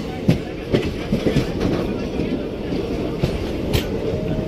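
The 14707 Ranakpur Express rolls on past Palanpur with a steady, loud rumble from inside the carriage and regular clickety-clack wheel beats over the rail joints.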